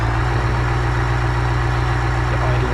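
Supercar engine with an aggressive cam profile idling at about 900 rpm in the game Automation, a loud, steady, low rumble with a lumpy pulsing character, heard alone.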